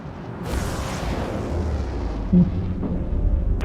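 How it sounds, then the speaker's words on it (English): Flechettes fire in a space combat game, opening with a sudden loud burst that rolls into a dense, rumbling barrage with a sharp thump midway, loud and sustained. "Flechettes launched, Captain."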